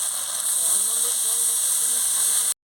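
Water splashed into hot oil with meat for a purple yam curry gives a loud, steady hiss of steam lasting a couple of seconds before cutting off abruptly, with a faint voice murmuring underneath.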